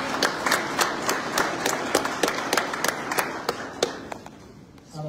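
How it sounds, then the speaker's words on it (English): An audience at a retirement event gives a round of applause: a short burst of scattered, sharp hand claps, fairly close, that thins out and fades within a few seconds. "We're going to give him a round of applause."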